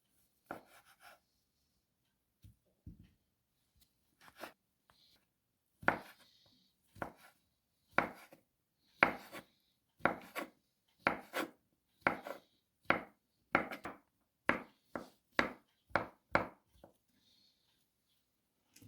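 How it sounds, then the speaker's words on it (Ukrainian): A knife chops two boiled potatoes on a cutting board for a salad: about fifteen crisp, evenly spaced thuds, close and clear, starting sparse and then settling into a steady rhythm. "І нарізуємо дві відварених картоплини."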